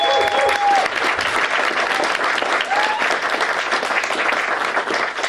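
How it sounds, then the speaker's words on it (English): An audience at a live music performance breaks into loud, sustained applause, with a brief whistle or cheer rising above the dense clapping. "Round of applause for Lucy as well and the rest of the team."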